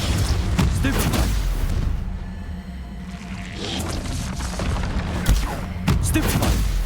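Stupefy spell casts and impacts in Hogwarts Legacy, heard as a series of loud booming blasts and bursts amid dense game combat noise, with a shouted incantation over the fight.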